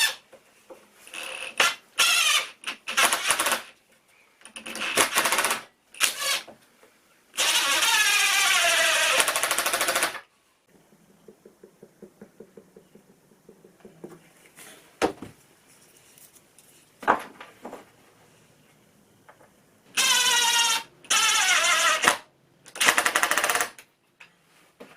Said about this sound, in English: These legs are going to be glued and also screwed with these